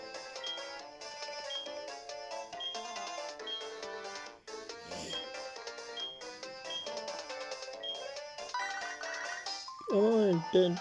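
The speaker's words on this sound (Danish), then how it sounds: "Hans professorens telefon ringer." Phone ringing for the professor in the Pokémon HeartGold video game, a chiming electronic ring tone playing over looping game music, with a rising warbling ring near the end; a person talks over it.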